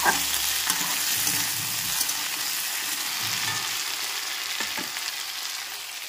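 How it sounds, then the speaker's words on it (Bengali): Pieces of elephant foot yam fry in a pan with a cumin tempering, giving a loud, steady, close sizzle that runs unbroken throughout. "জিরে ফোড়ন দিয়ে মেটে আলুটাকে দিয়ে দিয়েছি, দিয়ে একটু ভাজা ভাজা করে নেবো"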